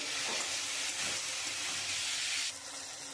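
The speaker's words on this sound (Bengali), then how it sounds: "আমি মশলাটা দিয়ে কষিয়ে নিয়েছি।" Ground chili, turmeric and cumin sizzle and hiss in a hot pan while being fried for pea ghugni, a steady close crackle that drops slightly near the end.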